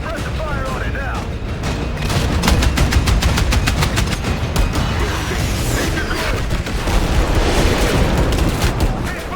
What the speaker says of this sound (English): Put suppressive fire on it now.